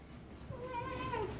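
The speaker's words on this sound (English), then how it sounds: "Why are you meowing like that?" A cat gives one drawn-out meow that rises and then bends downward, faint and close, over a low background hum.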